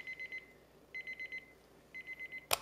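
A Westclox alarm clock running on an AA battery rings in three bursts of rapid electronic beeps, each a quick run of four or five tones separated by short pauses, heard clearly and alone at close range, ending with a brief click or knock.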